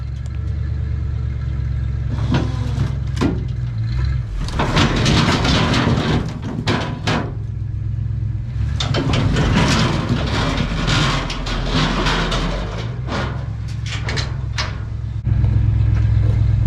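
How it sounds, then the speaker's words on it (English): A dump truck engine running steadily near a job site where a big oak tree is being cut, with a low continuous rumble and bursts of louder revving and rattling. "My dump truck issues have not got any better."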